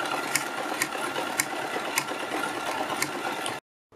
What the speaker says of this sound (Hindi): इसी तरह से हम इनके ऊपर सिलाई लगा देंगे दोनों साइड